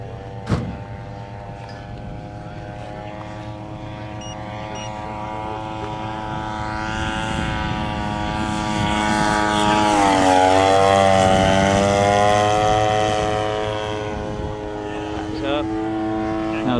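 Giant scale RC Corsair model airplane making a low pass with flaps down and gear up, a steady propeller engine drone that swells and rises in pitch as it sweeps close overhead, then fades slightly, with a sharp click at the start.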